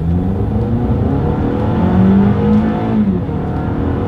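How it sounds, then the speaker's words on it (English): A 2022 Toyota RAV4 pulls away from a standstill, its engine droning loud and close and climbing steadily in pitch as it gathers speed. "let's see how quickly we can get the new 2022 Toyota RAV4 here up to speed"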